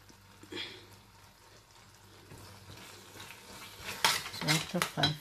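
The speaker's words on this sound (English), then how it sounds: "I continue stirring until it becomes thick" Meat pie filling is stirred in a pan, soft sizzling underneath with spoon scrapes and clinks growing louder and more frequent toward the end.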